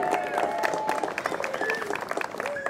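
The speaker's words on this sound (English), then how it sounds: "So give them a round of applause" Scattered outdoor crowd applause at a horse parade in Chesapeake City, Maryland, moderately loud and uneven, with whistle-like tones and voices mixed in.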